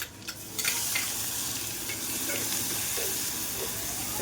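Garlic fries in a pan until brown, giving a close, steady sizzle and hiss, with a few clinks of stirring at the start.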